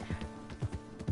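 A horse's hooves in Red Dead Redemption 2 clopping at a walking pace, several soft, evenly spaced thuds, quiet and nearby.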